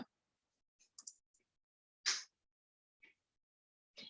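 Isolated mouse clicks on a Continue button sound sharp and close against near silence, a few single taps spaced apart with brief gaps.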